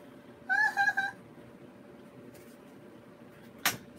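A domestic cat meows in a short wavering call of two or three pulses near the mic, followed by quiet room tone and a brief sharp knock.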